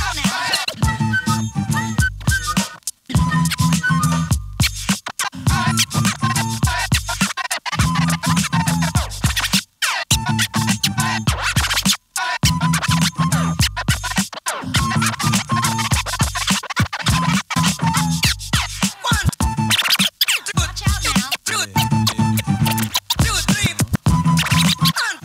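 DJ turntable scratching at the Turntemple jam during Bass Coast 2014, dense rhythmic scratches riding loud over a thumping beat with steady bass, continuous and close throughout.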